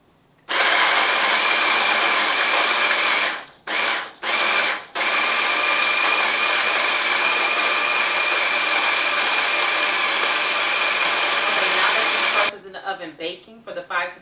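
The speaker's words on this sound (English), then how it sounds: "you're just going to pulse and chop these cookies up into something" A KitchenAid chopper pulses, grinding cookies into fine crumbs for a cheesecake crust, running as a loud, steady whir that breaks off briefly twice, then stops near the end, with some rattling afterward.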